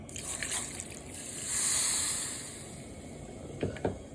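A cup of water poured over dry seedless cranberries in a mixing pot, a faint trickling swell in the middle followed by a couple of small knocks, quiet throughout.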